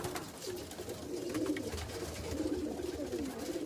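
Low, wavering coos from Teddy pigeons repeat through a steady murmur, near and fairly quiet, with several rising and falling calls and no talk.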